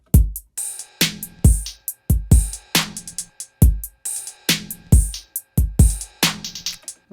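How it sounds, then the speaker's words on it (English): Programmed drum beat built in Logic Pro X, with kick, snare and open hi-hat plus a steady ride cymbal shimmer layered on top, looping in a tight, bright, repeating groove with no voices. "Let's add a little ride cymbal."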